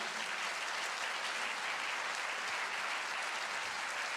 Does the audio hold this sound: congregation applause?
yes